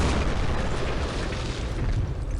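Mortar shell explosions in a Middle East war strategy game, a dense, sustained rumbling blast that fills the whole stretch with no pauses and no voices.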